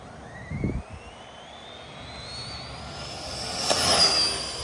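A Bandit vehicle with a new motor accelerating through the gears, its rising engine whine climbing steadily in pitch and growing louder, with a brief thump at the start and a louder passing swell near the end.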